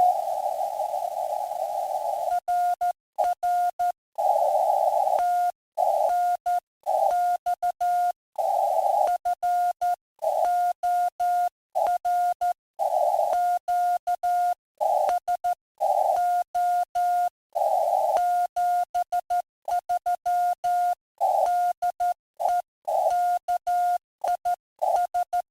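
Amateur radio RTTY signal from station WX7V, a steady pair of keyed data tones chattering on and off in irregular bursts with brief dropouts, fading in and out over the receiver throughout, with no voices.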